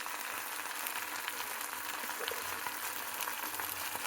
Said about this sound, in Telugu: కాకరకాయలు వేగుతున్నాయి.